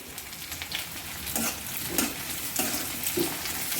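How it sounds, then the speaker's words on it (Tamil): Curry leaves with ginger and garlic fry in hot oil in a pan for a mushroom pepper masala, giving a steady close sizzle with occasional stirring scrapes and spatters. "கருவேப்பிலை சேர்த்து வதங்கிட்டுருக்கு"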